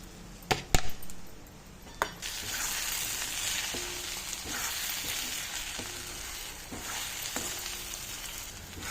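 A masala mixture with garam masala fries in a pan for a meal maker curry: a few sharp clanks of stirring at first, then a steady, close sizzle with occasional utensil knocks. No talking.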